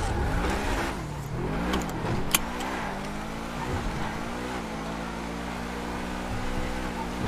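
A car engine in a video game drones and revs up and down, rising and falling in pitch at close range, with a brief sharp click partway through.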